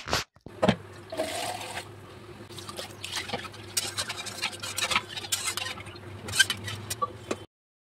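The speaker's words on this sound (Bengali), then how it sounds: "এটা আমি কুকারে ঢেলে নিচ্ছি।" Chicken and potato curry poured from a pan into a pressure cooker, a thick, wet sloshing and stirring with small splashes and scrapes, steady and close for several seconds with no talking.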